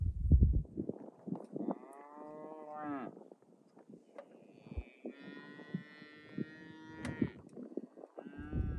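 Cattle on a farm moo in long, drawn-out calls, a loud near bellow first, then more lows and higher bawls that overlap, with short gaps between and no voices.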